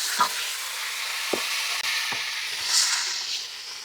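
Onion and ginger paste fry in oil on a clay stove, giving a steady, close sizzle throughout, with a few soft clicks and scrapes of stirring.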